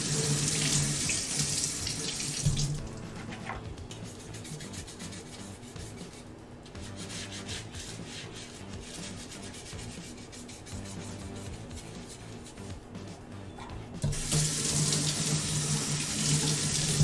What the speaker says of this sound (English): Make sure and wash up our knife now.